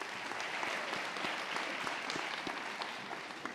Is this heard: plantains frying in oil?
no